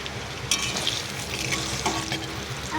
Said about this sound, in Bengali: তেলটা গরম হয়ে গেছে। এবার সয়া চিলি সয়াবিনগুলো ভেজে নেব।